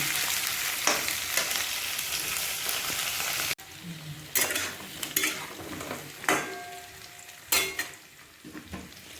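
Spices, turmeric and chili powder sizzle and fry loudly in a pan, with a steady hiss broken by scraping stirs and occasional clinks of a utensil against the pot.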